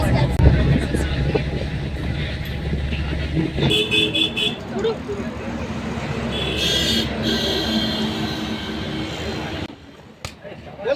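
A bus drives along a road on the way to a hill fort, with a low engine rumble throughout, a few short horn toots, and people talking over the ride.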